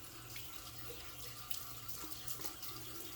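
A tap runs steadily into a sink while a razor is rinsed, a continuous quiet hiss of flowing water with faint splashing and no voices.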